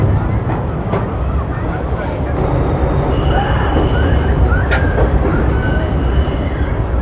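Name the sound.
train crossing the Yamuna river bridge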